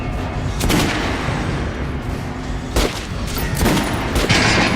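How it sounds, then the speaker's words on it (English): Gunfire from the video game Metro Last Light, fired at target dummies on a shooting range: a dense run of loud shots with sharp bursts near the start, around the three-second mark and again near the end, no speech. "Try out the rest of the weapons you chose. Load! Fire! Try shooting for the center of the regular dummy chest."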